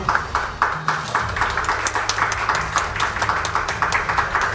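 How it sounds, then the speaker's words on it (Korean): Guests at a national Information Security Day award ceremony applaud the honorees, with crisp, fairly rhythmic clapping over a low hall hum, steady and close for several seconds. "모든 분들께 여러분 따뜻한 축하의 박수 부탁드리겠습니다"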